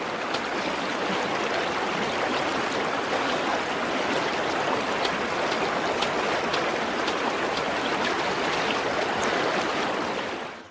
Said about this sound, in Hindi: यहाँ एक नदी है, बिल्कुल वैसी जैसी नक्शे में दिखाई है।